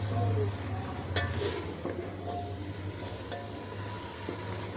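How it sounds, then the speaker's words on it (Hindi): Beef shami kabab mixture sizzles steadily in a pan, a soft, continuous frying hiss broken by a few faint clicks of stirring, with no one speaking. "तो मैं अभी भून रही हूँ"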